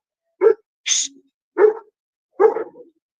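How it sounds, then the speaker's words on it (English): A pet dog barks four times in sharp, separate bursts, close and loud, with short silent gaps between each bark and no other sound around them. "My dog won't stop barking"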